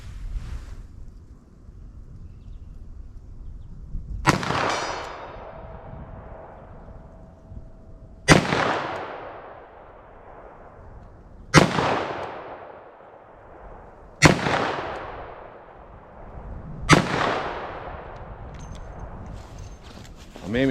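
A .357 Magnum revolver fires five sharp, loud shots at a target outdoors, spaced about three to four seconds apart, each with a ringing decay, while a person talks quietly before the first shot.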